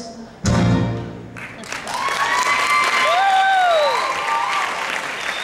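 Loud applause from an audience at an Elvis Presley and Ann-Margret tribute show fills the space, steady clapping with some cheering and whistles rising over it.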